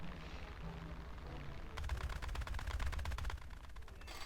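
Rapid bursts of aircraft machine-gun fire in War Thunder Mobile, a dense rattling stream that kicks in midway and runs for over a second under game engine noise.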